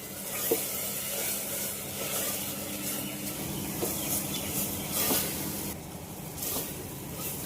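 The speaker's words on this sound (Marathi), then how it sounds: "तर ही पेस्ट छान परतून घेऊया इथे चांगली तेल सुटेपर्यंत।" Masala paste for a Konkani-style prawn pulav sautés in oil in a pan, giving a steady close hiss and sizzle with faint stirring throughout, without talk.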